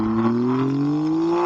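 Alfa Romeo Giulia Quadrifoglio engine in race mode, pulling in second gear from around 4,000 RPM, a loud steady drone rising smoothly in pitch as it accelerates, heard from inside the car with no talk.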